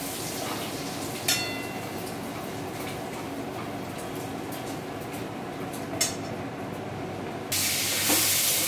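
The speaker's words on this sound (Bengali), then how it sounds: "এবার ওই তেলের মধ্যেই প্রথমে জিরে ফোড়ন দেওয়া হলো, তারপর দিয়ে দেওয়া হচ্ছে কিছু তেজপাতা।" Cumin seeds and bay leaves sizzle in hot oil for a Bengali ridge gourd and prawn curry, a steady broadband hiss with a couple of sharp crackles and a louder burst of spitting near the end, heard alone.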